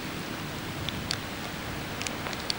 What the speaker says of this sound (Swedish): Regnigt har vi idag också.